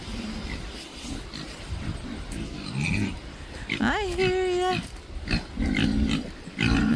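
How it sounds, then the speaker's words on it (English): Pigs grunt and oink around a barn on a Maine homestead farm, with scattered snorts and one drawn-out squealing call, while a person talks nearby. "There's some pigs in here."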